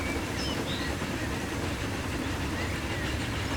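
A train in Transport Fever 2 rolls steadily along rails with a dense, continuous low rumble and wash of noise, loud and unbroken for the whole stretch.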